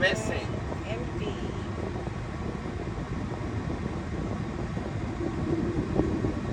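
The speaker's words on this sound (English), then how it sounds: "Wow, that's the longest train I ever did." A long freight train rolling past with a steady rumbling drone of railcars, nearby voices talking over the noise.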